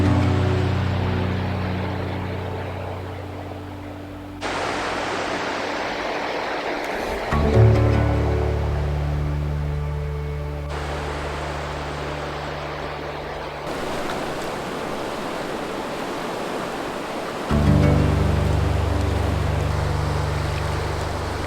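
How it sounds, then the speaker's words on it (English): The raging Tuolumne River rushes past a campground in Stanislaus National Forest, a loud, continuous broadband roar of fast water heard up close, with abrupt level shifts between segments. "a free campground that's right next to the Tuolumne River, which is absolutely raging."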